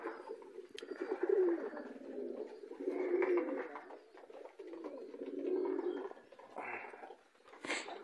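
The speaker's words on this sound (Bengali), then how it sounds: "এখানে আছে জিরা কবুতরের বাচ্চা একজোড়া" Pigeons in a home loft, including Zira and high-flyer birds, coo close by in repeated, overlapping rolling phrases that rise and fall in waves for several seconds, with a brief sharper chirp near the end and no talking.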